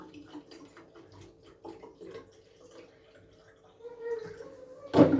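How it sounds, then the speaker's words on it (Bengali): Water runs from a tap into plastic bottles in a kitchen, a soft trickle rising to a louder gush near the end, with faint background sounds. "আগে জলের বোতলগুলো জল ভরি"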